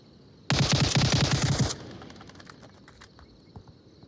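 Rapid automatic gunfire in the VR shooter Onward during a competitive match round, a loud sustained burst of regular shots lasting over a second, then dropping to quieter scattered distant pops and ambient noise.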